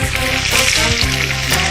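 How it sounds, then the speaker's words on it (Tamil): Onion, green chili and asafoetida sizzle in hot oil, a loud close crackling fry with a few soft stirring scrapes across a short burst, no talk. "இதெல்லாம் போட்டு இப்படி எண்ணெயில வதக்கணும்"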